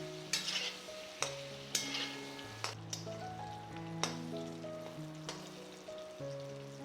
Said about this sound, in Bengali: আলুগুলো খুন্তি করে ভালোভাবে নেড়ে নিয়ে তেলের মধ্যে আমরা 2 থেকে 3 মিনিটের মতো ফ্রাই করব।